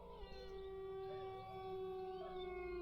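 Sustained, wavering howls from dogs rise and hold, steady and fairly clear against a low rumble, with no talking.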